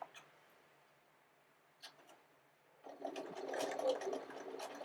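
A sewing machine chain pieces quilt star patches, starting after a quiet stretch and running as a steady close, moderately loud whir near the end, after a brief faint click.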